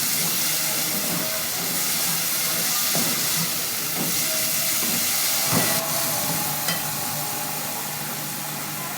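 Chicken and vegetables stir-frying in a pan for a Chinese-style dish, giving a steady sizzling hiss throughout with a few faint clinks of a utensil and no talking.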